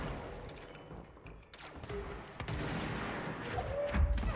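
Gunfire and impacts in the video game Control, loud bursts and thuds with a swelling mechanical roar and a rising whine, fairly dense throughout.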